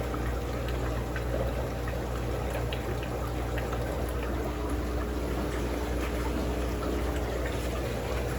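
Water pours steadily out of a fish tank being drained in a fishroom, a continuous, even splashing flow that stays close and moderately loud for the whole stretch with no voices.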